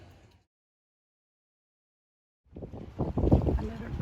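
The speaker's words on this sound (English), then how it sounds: "The wind is a little less, but not knocked down as much as we'd hoped for or as much as they'd forecast." Wind rushes and buffets against a boat off Block Island, bursting in loudly after a stretch of near silence and gusting unevenly to the end.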